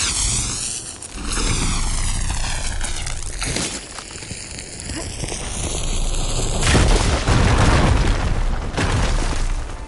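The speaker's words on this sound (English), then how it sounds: "Should be able to blow up that fire gleam" A fire gleam blows up in the video game Horizon Forbidden West, giving loud booming blasts and a rumbling roar that sweeps through the scene and swells again toward the end, with no talking.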